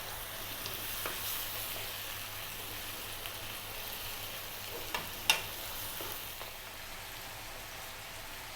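A whole fish frying in a wok over high heat with a splash of water, a steady broad sizzle and hiss with a few brief clinks of utensils, moderate and continuous.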